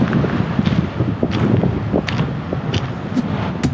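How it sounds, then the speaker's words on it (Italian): Strong coastal wind at Diaz Point, Namibia buffets a microphone near an open car window, a steady loud roar with gusty surges and no speech. "Se apro qua c'è un vento pazzesco."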